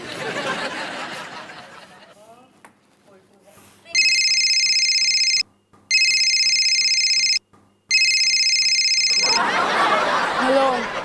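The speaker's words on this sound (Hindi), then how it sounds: "मैं अभी उसे फोन करके पूछता हूँ।" A telephone rings on the far end of a call, a bright electronic warble repeated in three long bursts with brief gaps, loud and steady, with voices talking before and after.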